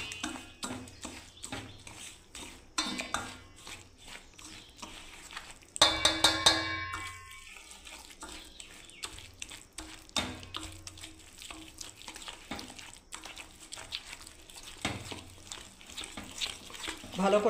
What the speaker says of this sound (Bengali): ভালো করে ফেটিয়ে নেবো বন্ধুরা।